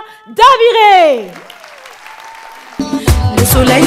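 At an evening event, an audience applauds an organising-team speaker. A sustained vocal tone and quieter sound come first, then a burst of close clapping breaks out near the end.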